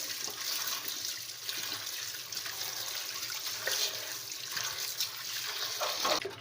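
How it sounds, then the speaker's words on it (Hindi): Water runs and splashes as washed raw potato fries are rinsed and drained, a steady close trickling and pouring with brief louder gushes, no talk. "इनसे ये पानी निकाल देंगे, ये वाला पानी। और फिर धोएंगे, तकरीबन 3 से 4 दफ़ा धो के।"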